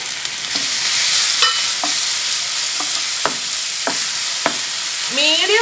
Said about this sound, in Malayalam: മീഡിയം ഫ്ലെയിമിൽ ഈ ഏത്തപ്പഴം ഒന്ന് വഴറ്റിയെടുക്കണം.